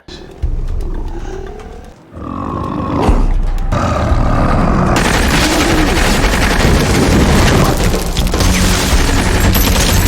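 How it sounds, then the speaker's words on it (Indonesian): Gunfire in a science fiction horror film battle scene, a heavy burst of loud, dense shots and roaring booms after a quieter stretch with a brief rumble. "Baku tembak terjadi"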